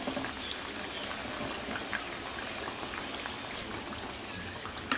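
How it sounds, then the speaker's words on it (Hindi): Hot oil ladled over a batter-coated vada frying in a pan on medium flame, giving a steady close sizzle and bubbling hiss throughout with no talk. "वड़े के ऊपर के पोर्शन पर इस तरह गरम तेल डालते जाएंगे"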